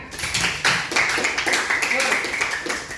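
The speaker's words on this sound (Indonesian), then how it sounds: "Oke, tepuk tangan." A classroom of students claps hands together, scattered and uneven, mixed with voices and chatter throughout.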